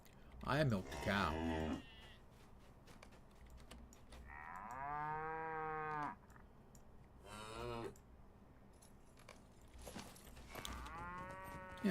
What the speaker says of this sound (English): All these things did was moo at me.